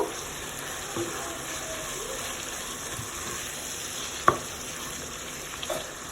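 Onions with red and green capsicum frying in a pan for chicken keema samosa filling, a steady soft sizzle throughout with a brief stir or clink near the middle, close and unbroken, no voices.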